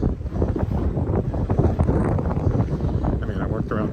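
Sharp winter wind at minus 19 buffets the microphone on a snowy creek-side walk in Regina, a loud, continuous rumbling roar with gusty swells that covers the whole stretch.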